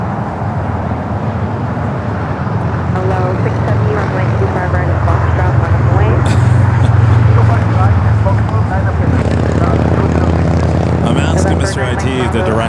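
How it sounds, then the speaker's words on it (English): A Boeing 787 Dreamliner taxis toward the south side at LAX, its engines giving a steady, broad rumble that swells slightly midway, with airport ambience around it. "We got the Dreamliner heading here to the south side."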